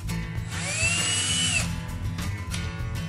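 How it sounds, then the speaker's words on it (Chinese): An electric drill runs loud and close, its motor whining with rising and falling pitch for about a second and a half before spinning down, followed by short bursts of further running. "它是用来控制电钻顺时针或者逆时针转动。"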